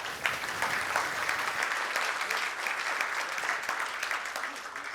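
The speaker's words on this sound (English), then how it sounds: "big round of applause for Daniel." Audience applause following a conference talk on SIP routing with Kamailio, steady dense clapping from a sizable crowd throughout, close and loud, with some background voices mixed in.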